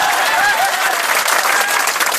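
A crowd at a political speech applauds loudly, a thick continuous roar of many people clapping at once, with faint cheers mixed in throughout.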